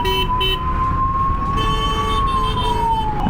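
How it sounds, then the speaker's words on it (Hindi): A steady wailing ambulance siren drones over loud, constant Mumbai traffic rumble, with faint horn-like tones in the background. "एम्बुलेंस फंसा हुआ है यार ट्रैफिक में।"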